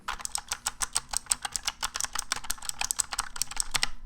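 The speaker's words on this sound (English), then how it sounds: "Clicky key switches are usually the loudest and have this nice clicky bump at the bottom of the press." Fast typing on a clicky mechanical keyboard gives a dense run of sharp, bright key clicks, close and loud, with no talking.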